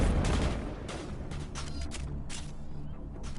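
Gunfire from a turret rings out in the Mass Effect video game, bursts of sharp shots and booms spaced irregularly over a dense battle backdrop, loud and without speech.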